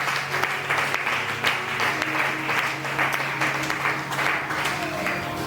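A church congregation applauding during a sermon, sustained clapping from many hands at a steady moderate level, with a faint voice underneath.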